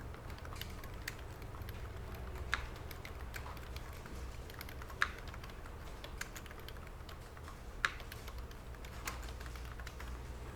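Keys clatter lightly on a computer keyboard as text is typed into a CAD drawing, a quiet, steady patter of clicks with a few sharper taps over a low background hum.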